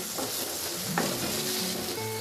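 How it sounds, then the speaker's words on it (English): Chopped potato for poha fries with a dense, steady sizzle as it is stirred, with scraping utensil strokes against the pan. "Let's add a chopped potato. Mix everything well."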